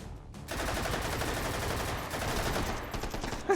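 Rapid automatic gunfire rattles in a dense, continuous burst in the VR shooter H3VR Take & Hold, a sustained stream of shots lasting a few seconds, fairly loud and alone.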